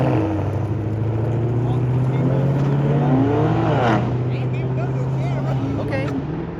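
A 1988 Nissan 300ZX engine holds a loud, steady idle-like drone with a few rises and falls in pitch at a car meet, while people talk close by over it.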